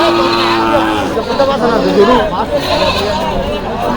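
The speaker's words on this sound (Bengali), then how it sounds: "দর্শক বন্ধুরা এই হাটে প্রচুর পরিমাণে ছাগল পাওয়া যায়" Goats bleat repeatedly amid a crowded livestock market for Qurbani at Chupair haat in Kaliganj, Gazipur, with nearby voices talking over the wavering animal calls.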